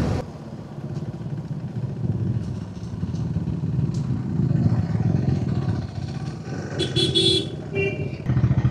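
Several motorcycles ride together along a highway, carrying tents and sleeping bags. A steady, moderately loud engine drone rolls through with rising and falling swells, and nobody speaks.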